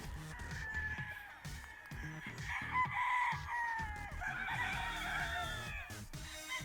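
Gamecock roosters bred as breeding stock crow repeatedly in long, strained calls over steady clucking, close and loud, with several birds overlapping throughout.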